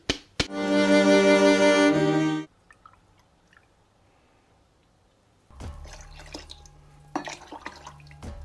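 Pineapple juice is poured into a Black Panther cocktail with short jerky shakes of the bottle, heard as trickling, dripping liquid in two bursts with a quiet gap between them.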